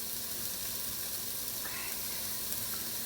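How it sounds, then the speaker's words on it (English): Jalapeno and garlic for white chicken chili sizzle in a hot pan, a steady bright hiss running throughout with no talk. "I'm gonna add the jalapeno and the garlic now."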